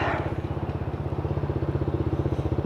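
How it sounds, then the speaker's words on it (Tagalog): A Honda ADV160 idles through a JVT power pipe exhaust made for the Aerox, giving a steady, close, even thumping pulse with no other sounds. "idle sound ng ating JVT version"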